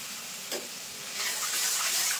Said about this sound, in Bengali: জল দিয়ে মশলাটা কষিয়ে নেব।